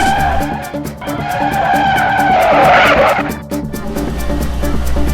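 A scooter brakes hard and its tyres skid and squeal on the road, a loud close screech swelling over engine noise before easing off.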